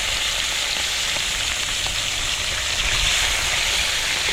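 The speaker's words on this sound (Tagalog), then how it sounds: "Prito lang muna kami ngayon." Food frying in hot oil, a steady dense sizzle with a constant hiss that holds at an even level throughout, with no voices.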